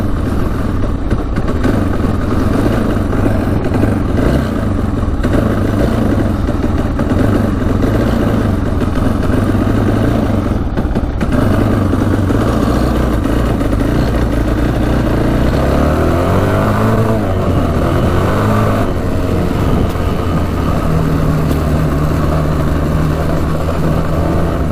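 A street-legal dirt bike engine idles steadily and loudly up close, with a brief rise in revs partway through before it settles back to a low, even idle.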